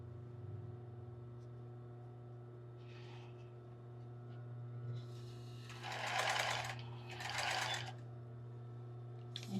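A sewing machine backstitching while sewing a lace bra: a steady low motor hum throughout, with two short louder bursts of rapid stitching close by near the end.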